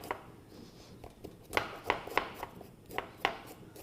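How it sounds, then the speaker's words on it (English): Ginger root gets its skin scraped off with the edge of a spoon, making quiet, close scratchy strokes in an irregular rhythm, some louder than others. "you really you peel it with a spoon"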